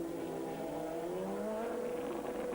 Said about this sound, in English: out comes the race leader, the Mobil 1 Honda NSX